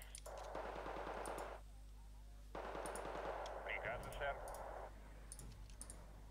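Sustained rattling gunfire in the real-time strategy game Wargame Red Dragon, two long bursts of rapid automatic fire separated by a short pause, fairly faint and distant, with a voice speaking over part of it.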